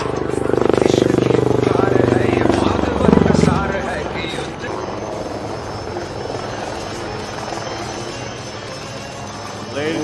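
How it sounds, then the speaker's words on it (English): An HAL Prachand light combat helicopter roars past at an air show, its loud rotor and engine noise swelling close by and then easing into a steady distant drone, while an announcer speaks over it. "here she is, the light combat helicopter Prachand"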